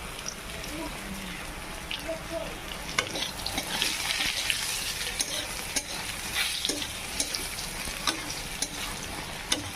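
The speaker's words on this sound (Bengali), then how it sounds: "পটল ভাজা হয়ে গেছে" Pointed gourd (potol) fries in a pan with a dense, steady sizzle, broken by scraping stirs and sharp spatters throughout.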